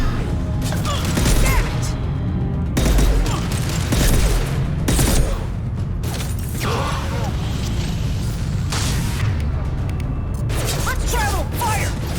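Gunfire in a Mass Effect 2 squad battle, with dense bursts of shots and crashing impacts running throughout, mixed with game dialogue and voices speaking over the fighting.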